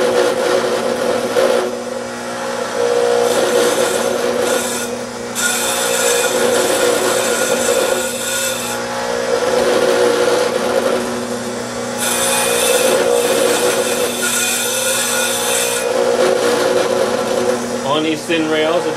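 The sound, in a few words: grinding a Rolls-Royce Phantom piston ring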